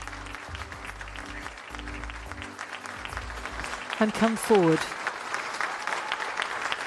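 A theatre audience claps steadily in appreciation as the actors take their bow, a continuous wash of applause with a voice speaking briefly over it.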